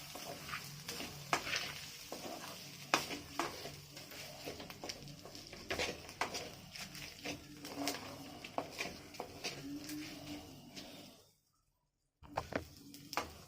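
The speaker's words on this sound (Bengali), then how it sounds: "এগুলোকে একটু ভেজে নেব।" Ghee-coated Gobindobhog rice fries and is stirred in a pan, giving a steady close sizzle with repeated scraping clicks of a spoon, broken by a brief silence near the end before the stirring resumes.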